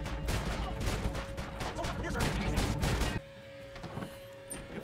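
Rapid bursts of gunfire in Red Dead Redemption Online, dense and loud, pound for about three seconds and then stop abruptly, leaving quieter game ambience; a voice may be faintly present.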